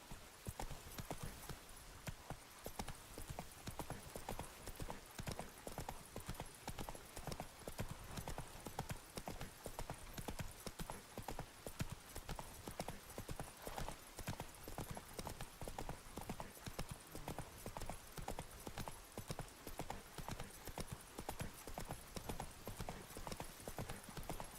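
Roach, the horse in The Witcher 3, walks with a steady, continuous clip-clop of hooves throughout, fairly close and even in rhythm, with occasional faint game ambience around it.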